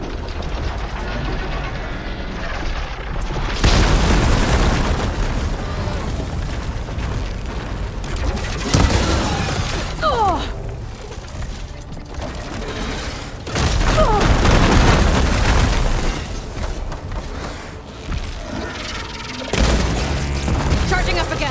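Weapon fire and explosions from the video game Horizon Forbidden West burst in repeated heavy booms and rapid shots across the span, loud bursts separated by rumbling gaps.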